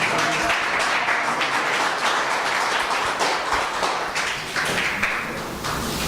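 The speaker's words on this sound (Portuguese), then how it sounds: "vamos dar um aplauso forte ao Senhor Jesus" Loud, sustained applause from a standing congregation at a church service, with steady clapping filling the whole stretch and no pause.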